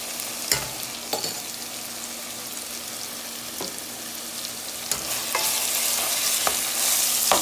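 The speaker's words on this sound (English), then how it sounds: "I'm going to give this a little stir" A spoon stirs chicken stew in a pot with a few scattered scrapes and knocks, over a steady simmering hiss that swells toward the end. It sounds close and moderately quiet, with no voices.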